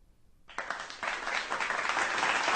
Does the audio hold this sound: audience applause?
yes